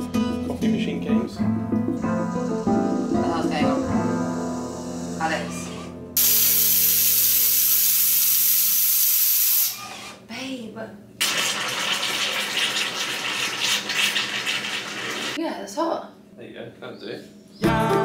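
A coffee machine in Ibiza hisses steam in loud, sustained bursts, broken by mechanical clicks and gurgling, with a voice talking at the start.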